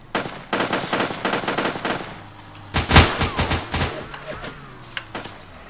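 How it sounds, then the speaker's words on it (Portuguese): Rapid bursts of automatic gunfire crackle from the video game SubRosa, with a louder flurry of shots midway and scattered single shots trailing off. "Eu dei uns tiros foda no cara ali"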